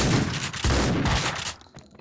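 Gunfire in Max Payne 2 sounds as a loud, rapid volley of overlapping shots with a couple of heavier blasts, then breaks off into quieter room tone near the end. No one talks.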